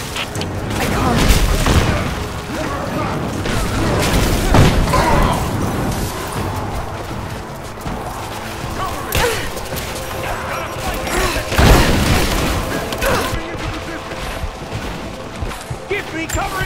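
Covering gunfire in Rise of the Tomb Raider, a loud run of booming shots and crashes in an intense battle, with voices speaking throughout.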